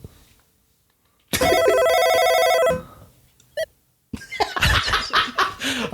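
A telephone rings in one loud, steady electronic burst lasting over a second, then falls quiet before laughter breaks out close by.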